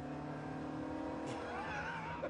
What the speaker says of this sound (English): There's a fair bit of period turbo lag, as you can hear.